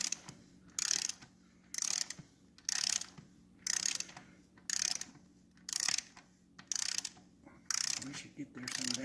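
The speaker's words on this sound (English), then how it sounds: "We're torquing the top rear motor mount." A torque wrench ratchets a top rear motor mount bolt on a 1974 Norton Commando, giving nine evenly spaced bursts of sharp clicking, each a short pull of the handle, close and loud in a quiet workshop.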